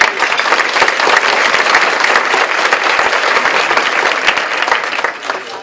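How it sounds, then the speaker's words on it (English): Dense, steady applause from a luncheon audience at a Go Red for Women event in Western Massachusetts, loud and continuous for several seconds before thinning slightly at the end, with no talking over it. "Give her a round of applause."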